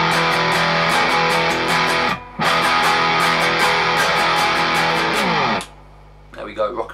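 A distorted electric guitar plays a riff from a song, notes fretted high and struck, then slid downward in a loud sustained run, cut off briefly near the middle, ending with a quick slide and a few muted scratches.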